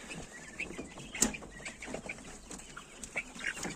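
Legbar hens cluck and cackle inside a coop, with scattered short calls and chirps close by over a soft background.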